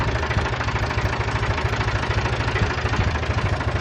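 A Ford 2000-series tractor diesel engine runs close by at a steady idle, a loud rhythmic knocking chug that stays even throughout with no talking.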